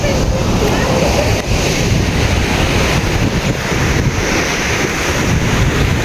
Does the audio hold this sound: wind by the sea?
yes